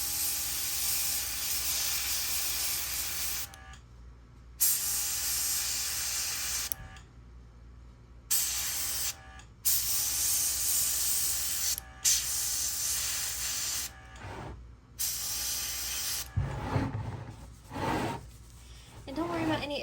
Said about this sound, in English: Take this airbrush.